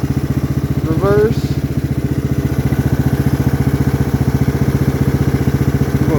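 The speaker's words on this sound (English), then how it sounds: "I'm going to keep it in low idle just to be able to show you how to do it." A riding lawn mower engine idles low, a steady fast chugging pulse that continues unbroken and fairly close throughout, with a brief squeaky mechanical sound near the start.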